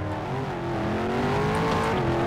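A Mercedes Brabus Rocket 800 roars in the Roblox game Car Driving Indonesia. Its engine gives a loud, sustained, growling drone that climbs slightly in pitch as it revs, with no speech over it.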